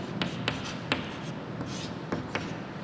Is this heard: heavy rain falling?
no